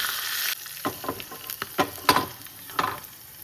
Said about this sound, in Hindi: ये देखिए मैं ना तड़का लगा रही हूँ